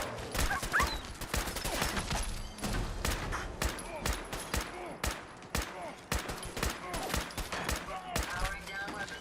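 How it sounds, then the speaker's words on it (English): Rapid combat rifle fire in the Fallout 4 video game: loud, sharp shots in quick bursts that continue almost without a break, with game voices mixed in. "I like my 45 combat rifle. It's doing quite well."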